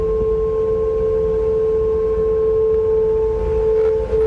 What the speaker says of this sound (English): they have a plan aimed at trying to fix the sound of humming around the bridge